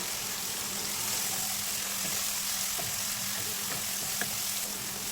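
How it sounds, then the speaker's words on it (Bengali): Ginger and garlic paste frying in a pan of oil, giving a steady, close sizzle with faint occasional clicks of stirring and no talking. "আদা রসুনের পেস্টটাকেও কাঁচা গন্ধ যাওয়া পর্যন্ত একটু ভেজে নেব এক থেকে দু মিনিট"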